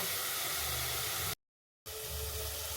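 Tomato, onion and green chilli sautéing in a pan give off a steady, close broadband hiss that cuts out briefly in the middle before resuming.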